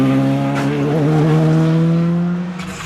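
Two Skoda Fabia rally cars contest third place in a European rally round at Omloop van Vlaanderen, with a loud, steady engine drone whose pitch slides slightly, close and continuous throughout.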